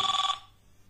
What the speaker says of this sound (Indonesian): ini ada telepon ya teman-teman dari Mbak Bisri